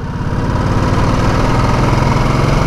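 A Harley-Davidson Nightster engine idles and lugs below 2000 rpm, a loud, close, steady low throbbing rumble with a fast even pulse and no voices over it.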